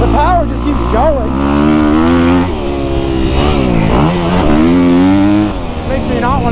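A Kawasaki KX250F dirt bike engine revs hard and climbs high, its pitch rising and falling in loud, sustained sweeps, close to the listener, with some wind or riding noise underneath.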